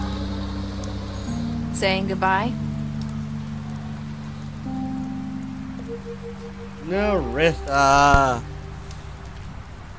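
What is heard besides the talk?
rain falling in the video game The Wolf Among Us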